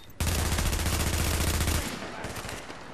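Rapid automatic gunfire from the shooter game The Division in its Dark Zone, a loud, dense burst of fast regular shots lasting over a second before fading into a softer echoing tail.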